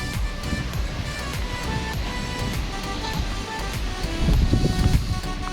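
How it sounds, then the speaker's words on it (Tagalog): Steady roar of surf and wind noise fills the clip on the coast at Anda, Bohol, with a heavier wave surge building near the end. "Grabe yung alon."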